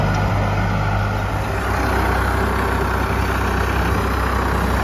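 A Farmtrac 60 tractor engine idles close and loud, a steady low diesel throb running evenly for the whole stretch without pause or talk.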